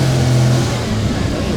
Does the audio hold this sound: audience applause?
no